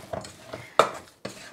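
Three quick scraping stirs of a thick cheese curd mixture for syrniki in a bowl, each a short soft swish separated by brief pauses, close up with no talking.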